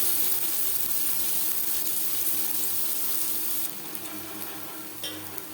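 Chopped onion hisses and sizzles in hot oil in a pan, the oil already used for frying boal fish roe; a steady, close frying hiss runs throughout and drops a little quieter toward the end.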